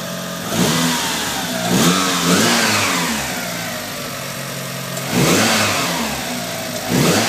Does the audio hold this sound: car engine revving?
yes